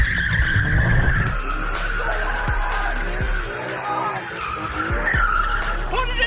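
A BMW E46 M3 skids hard, with loud sustained tire squeal riding over a strained engine throughout. Excited voices shout close by.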